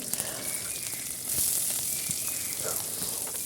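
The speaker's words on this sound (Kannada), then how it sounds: "ಈಗ ಸಾಸಿವೆ ಹಾಕಿದ್ದೀನಿ ಒಂಚೂರು ಒಗ್ಗರಣೆಗೆ" Mustard seeds sizzle in hot oil for tempering, making a steady crackling fry with dense small pops that stays fairly loud throughout.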